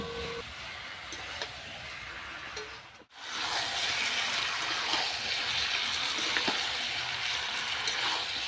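Water goes into a pan of browned meat curry with winter cauliflower: a quiet simmer briefly dips, then a louder, rushing bubbling hiss swells and holds for several seconds.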